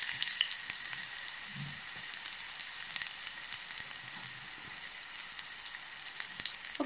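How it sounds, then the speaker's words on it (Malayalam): Sliced onion fries in hot oil for a prawn, drumstick and tomato gravy, giving an even, continuous hiss of sizzling with a few faint pops scattered through it and no speech. "പൊട്ടിക്കഴിയുമ്പോൾ കുറച്ച് സവാള ചേർത്ത് കൊടുക്കാം."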